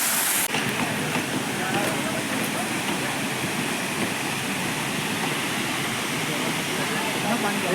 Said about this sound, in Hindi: ये झरना लास्ट है, बहुत ही खूबसूरत झरना है